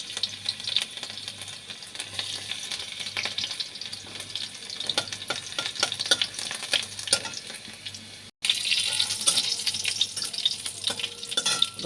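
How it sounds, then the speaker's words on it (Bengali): Dried red chilli and crushed garlic fry in hot oil with a steady, close crackling sizzle and occasional stirring scrapes. After a brief dropout it resumes slightly louder. "তেল দিয়ে আমি দিয়ে দেবো একটা শুকনো লঙ্কা আর একটু রসুন থেতো করে রেখেছি সেটা।"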